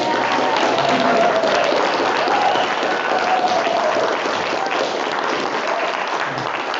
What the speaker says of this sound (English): we never gave a round of applause to Barbara when she was up here for organizing this whole thing